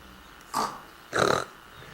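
A young girl imitates a pig with two short snorting grunts, a brief one and then a longer rougher one, close and fairly quiet against a calm indoor background.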